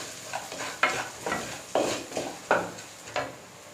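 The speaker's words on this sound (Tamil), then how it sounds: "அந்த இஞ்சி அதில் சேர்த்துடலாம். நல்லா இஞ்சியோட பச்சை வாசனை போகிற வரைக்கும் நல்லா வதங்க விடுங்க." Ginger sautés in a pan for Tamil-style country chicken fry, a soft background sizzle broken by a series of sharp scraping strokes of a spatula against the pan, about six evenly spaced stirs.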